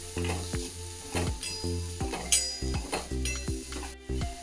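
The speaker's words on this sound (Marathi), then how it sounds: "त्याच कढईमध्ये थोडेसे कांदे फ्राय करून घ्यायचे" Onions frying in a kadhai for tomato chutney, a continuous sizzle close by, punctuated by a rhythmic series of scraping clinks from stirring against the pan.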